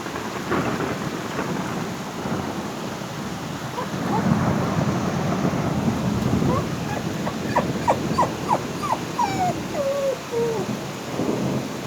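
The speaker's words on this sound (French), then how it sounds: "Il tombe une pluie énorme." Heavy thunderstorm over Le Mans, France, with dense pouring rain hissing steadily throughout and rolling thunder swelling midway; a few faint higher squeaks or chirps appear near the end, with no talking.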